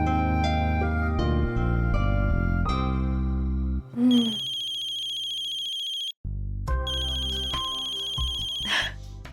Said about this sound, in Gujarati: લગાડીએ શ્રુતિને ફોન